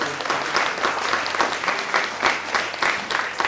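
A theatre audience at a performance of the play Bahadur Chidiya gives loud, vigorous applause: thick, unbroken clapping with a steady, pulsing texture that lasts throughout.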